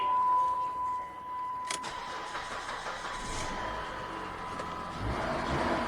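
A Chrysler PT Cruiser's engine is cranked over and catches after a spark plug change, then idles steadily with a couple of throttle snaps raising the engine note; loud, close and with no talking.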